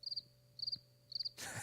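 Cricket chirps from a sound-effect button, three short bursts of rapid high trills evenly spaced and fairly faint, followed by a brief rush of noise at the end.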